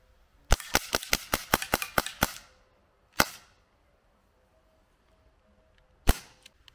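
An Umarex UX Tornado 4.5 mm BB air pistol fires a rapid string of sharp cracking shots, about ten evenly spaced, followed by one more crack and another after a pause, loud and close in a quiet setting.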